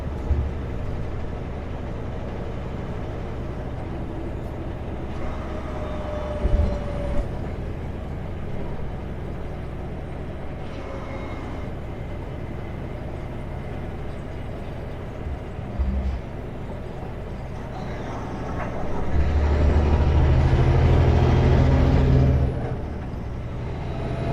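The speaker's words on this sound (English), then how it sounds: "Sound like a vibration at a certain RPM, you hear that vibration" A truck cab rumbles with steady low engine drone and vibration at a certain RPM on a road through Washington's rolling hills, with occasional thumps and a louder, fuller stretch of rumble near the end.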